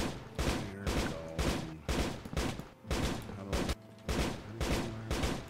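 Machine gun turrets firing in a Minecraft modpack game, repeated bursts of rapid gunfire about every half second to a second, loud and rhythmic, with a tonal game backdrop between bursts.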